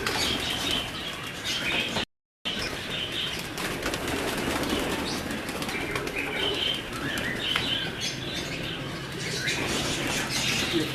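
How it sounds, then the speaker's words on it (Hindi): A jailer breed pigeon beats its wings in a dense, rapid flurry of flapping, loud and close, with faint cooing and chirps from other birds behind and a brief dropout partway through. "जेलर कबूतर है ये, देखें ना वहाँ"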